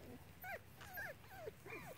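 Small mini springerdoodle puppies whimper and yip close by in short, high, wavering cries, several in a row across the moment, with faint room noise beneath.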